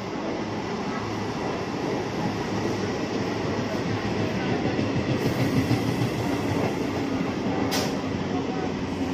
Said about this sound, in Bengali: এটা ডাউনে একটা ট্রেন ঢুকছে